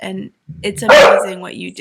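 A dog barks and yips indoors at a home during a livestreamed interview, its short bursts breaking in over and between a person talking.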